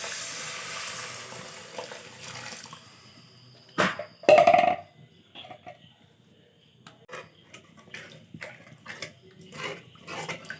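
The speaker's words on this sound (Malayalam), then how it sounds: "ഇനി നമുക്കിതിൻ്റെ അകത്തേക്ക് ആവശ്യമായ വെള്ളം ഒഴിച്ചു കൊടുക്കാം." Water is poured into a cooking pot for a stream-crab curry: a short, loud gushing splash, then quieter intermittent trickles and bubbling.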